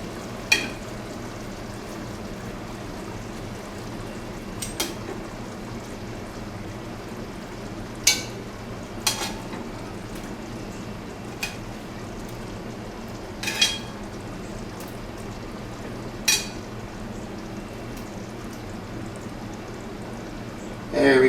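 Meatballs fry in a pan over low heat for meatball stew, making a steady sizzle throughout, with occasional sharp clicks and scrapes as they are stirred around.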